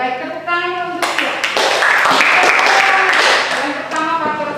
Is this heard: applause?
yes